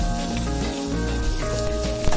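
Catfish fries in hot oil in a karai, giving a continuous hiss and crackle of sizzling that runs steadily under background music with sustained tones.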